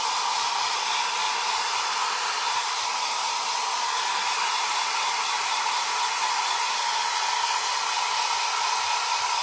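A hair dryer blows steadily and continuously at close range, drying thick paint on rice paper, producing an even, loud whooshing hiss with no talking.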